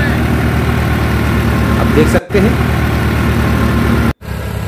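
A New Holland 3630 tractor engine runs steadily while powering a thresher, a loud continuous drone with two brief cutouts, as someone speaks over it.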